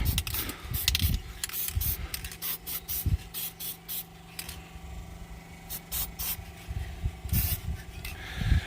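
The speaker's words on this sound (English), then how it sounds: "we'll spray them a little with a little bit of this protector sealer stuff" Repeated short hissing bursts of an aerosol protector sealer spray on tile, several quick sprays in irregular succession, close by.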